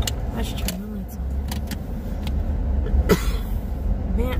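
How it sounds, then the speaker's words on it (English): A few short coughs break out inside a running car, with engine rumble and soft rustling underneath. "I'm coughing already."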